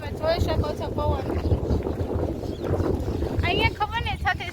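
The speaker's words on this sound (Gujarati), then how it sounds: "તમે જોઈ શકો છો પવન" Wind blowing hard across the microphone outdoors in the evening in Amreli, Gujarat, a loud continuous rumbling buffet under a voice talking throughout.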